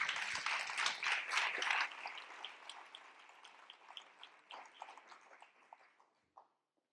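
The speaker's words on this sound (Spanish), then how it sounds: "Un aplauso" A conference audience applauds a speaker: dense clapping at first, then thinning to scattered individual claps that fade out before a short silence.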